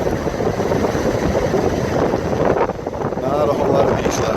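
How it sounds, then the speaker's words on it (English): Strong wind after Hurricane Florence buffets the microphone on the beach at Hatteras Island in a loud, continuous roar with gusting surges, muffling everything else. "still pretty windy"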